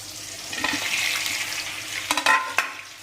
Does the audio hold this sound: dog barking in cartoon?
no